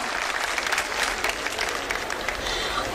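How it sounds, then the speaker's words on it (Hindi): An audience at a trade fair event applauds the chief minister, a dense, sustained wash of clapping from a large crowd, steady and fairly loud throughout. "एक बार फिर से जोरदार तालियों से आभार करें माननीय मुख्यमंत्री महोदय का"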